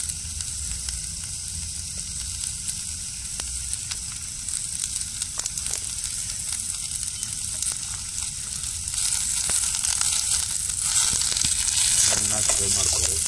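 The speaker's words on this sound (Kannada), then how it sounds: "ಫ್ರೈ ಮಾಡ್ಕೊಳ್ಳಿ." Chicken liver fries in oil over a wood-fired stove, making a continuous loud sizzle with scattered crackles and a few faint stirring clicks, and the hiss grows stronger near the end.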